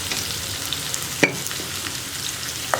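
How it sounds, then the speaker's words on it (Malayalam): Sliced onions with salt sauté in a pan, giving an even crackling sizzle broken by a few light spoon-against-pan knocks as they are stirred. "ഈ സവോള നന്നായിട്ട് വഴന്ന് വരുന്നത് വരെ ഇളക്കി കൊടുക്കുക കേട്ടോ"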